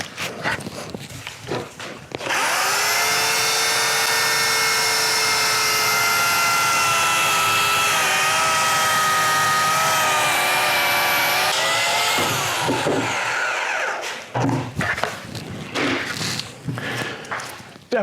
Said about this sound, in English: This is my Oregon self-sharpening chainsaw